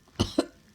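Two sharp, close coughs in quick succession, the second slightly weaker, followed by a brief rough breath, all heard alone without speech.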